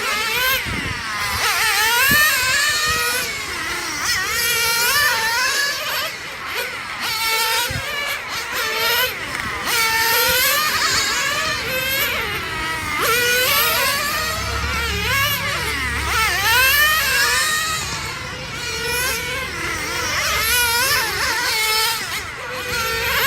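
Nitro RC cars race around a track in a main event, high-pitched engines whining and revving up and down as they pass, with a race announcer talking over the constant buzz.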